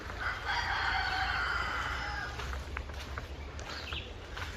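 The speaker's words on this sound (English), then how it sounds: "The cockerel crows were authentic, not added in." A rooster crows in rural Vermont near a covered bridge in Randolph, one long drawn-out cock-a-doodle-doo at moderate distance over steady low outdoor rumble, followed by faint clucks and scattered small sounds.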